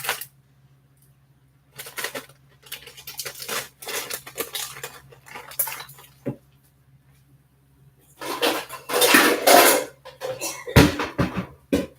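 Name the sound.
rinsing dry split peas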